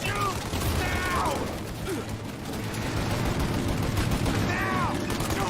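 Sustained gunfire in a video game shootout against an armored tank, a dense rattling fusillade with metallic mechanical clatter running throughout, loud and continuous under scattered voices and game effects.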